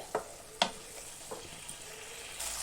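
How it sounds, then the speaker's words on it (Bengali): Spices frying in a pan for a smoky fish curry, stirred with a few soft scraping knocks over a faint, quiet sizzle, close by. "তো ভালো করে নাড়ি চাড়িয়ে ভেজে নিচ্ছি আস্তে আস্তে"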